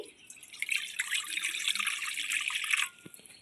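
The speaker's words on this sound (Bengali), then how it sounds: "কড়াইতে আমি জল দিয়ে দিচ্ছি" Water poured into a wok for boiling, a steady splashing pour lasting under three seconds, close and moderately loud, ending with a couple of drips.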